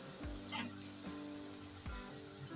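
Okra roasts in a pan for a Kathiyawadi dahi bhindi dish, giving a soft, steady sizzle with a few faint stirring scrapes. The sound stays quiet throughout and no one speaks.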